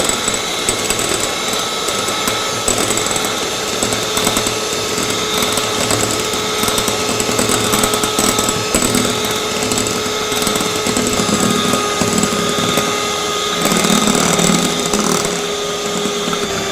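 An electric mixer beats eggs with sugar for a sponge cake, a loud, continuous mechanical whir with a rattling, grinding edge that holds steady throughout, close to the ear.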